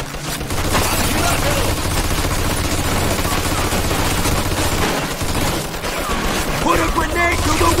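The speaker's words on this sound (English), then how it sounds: "Looks like we found the machine gun" Sustained machine-gun fire in the Mafia 2 video game, a dense continuous fusillade of rapid shots with booms mixed in, loud and close throughout.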